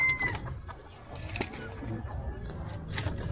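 Mestizo labuyo junglefowl chickens give short, scattered clucks and soft calls close by in a quiet outdoor setting, with a bit of faint background noise and someone murmuring.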